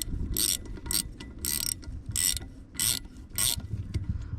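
A ratchet runs a second nut onto a turbo cooling line fitting on a 6LP engine, producing crisp close clicking bursts in a regular rhythm, about six strokes separated by brief pauses.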